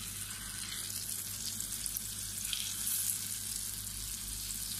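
A fish fillet fries in hot oil, giving a steady, close hiss of sizzling that holds an even level throughout with no talk.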